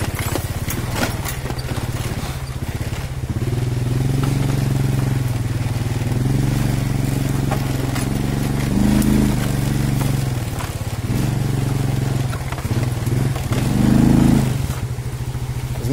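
Engine of an old motorbike labouring up steep hills on a jungle road in Vietnam, a steady loud low drone that swells and strains in several surges throughout, with no talk over it.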